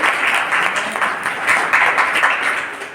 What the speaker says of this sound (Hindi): यीशु मसीह की ताली बजाओ।